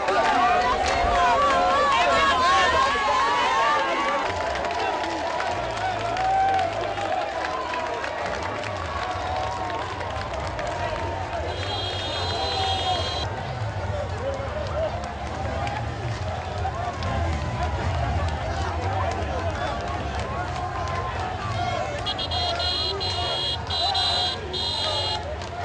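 A dense crowd in the streets of Kaloum, Guinea, following two presidents on a tour, a continuous noisy roar of many voices and movement with bursts of buzzer-like whistles or horns cutting through.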